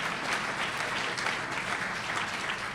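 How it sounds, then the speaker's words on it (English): An audience claps in a sustained round of applause at a coastal Louisiana restoration coalition event. The clapping is dense and steady, heard from within the room. "Let's give him a round of applause."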